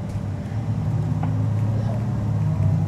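Steady low engine rumble and drone from a bus, continuous and fairly loud throughout, with faint background sounds on top.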